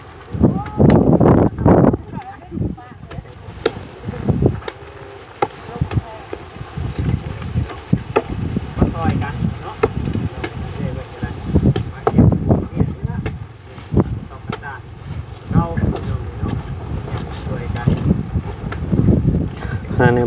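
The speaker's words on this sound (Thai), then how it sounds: "ลมพัด ลมพัดอู้อู้อยู่" Strong wind gusting across an outdoor Thai countryside site where a new house is being prepared, a rough continuous roar and buffeting of the microphone with louder bursts, while people talk over it throughout.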